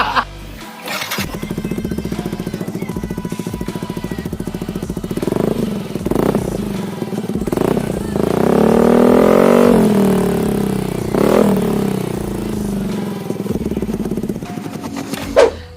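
Yamaha N-Max scooter fitted with an R9 Alpha aftermarket exhaust, its engine running steadily and then revving up and back down in a few throttle blips, loud and close with no talking.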